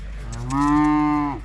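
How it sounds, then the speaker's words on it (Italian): A cow near horses gives one clear, drawn-out moo that swells and fades over about a second, loud and close, with no talking over it. "Che bella quella mucca, si fa compagnia ai cavallini."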